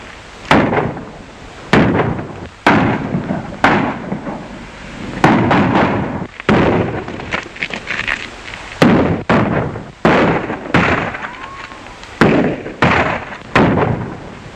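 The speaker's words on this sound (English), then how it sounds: "Say, that's fancy shooting, partner." Gunshots ring out in a Hopalong Cassidy western film, a rapid run of loud, sharp reports spaced roughly a second apart, each with a short echoing tail.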